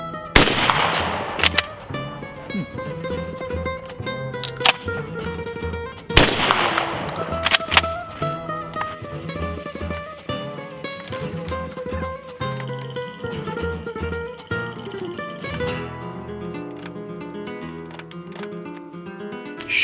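A shotgun fires reloaded Winchester AA shells outdoors. Two loud blasts come a few seconds apart, each with a long ringing decay. Between and after them there is quieter handling and tonal ringing.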